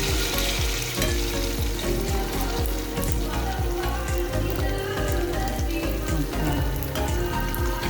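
Turon, Filipino banana spring rolls with cheese, frying in hot oil, giving a steady, loud, close sizzle with crackling pops throughout and no talking.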